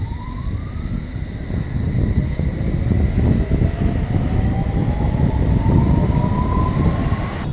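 A train rumbles loudly at Upton Park station in London, with rising metallic wheel squeals and a high whine over the heavy rolling noise.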